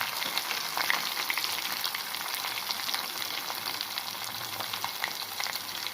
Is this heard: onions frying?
yes